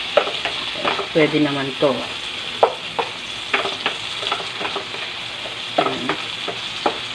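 Shrimp paste (alamang) sautéing in a pan, a continuous close sizzle broken by scraping and clinking stirring strokes, with brief talk over it.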